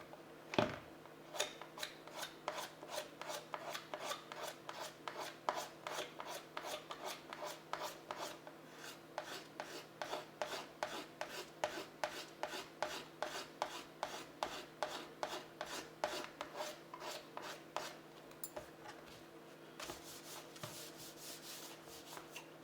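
Rhythmic scraping across a battered plastic surface to remove deep scratches and gouges, with steady repeated strokes at close range and a quiet, even level throughout.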